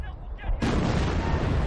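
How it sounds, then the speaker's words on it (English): A booby trap goes off in a tank battle video game: a quiet stretch, then a sudden loud blast that swells into a sustained, roaring rumble of explosions and gunfire. "I hear explosions, but I cannot see. That was someone setting off a booby trap."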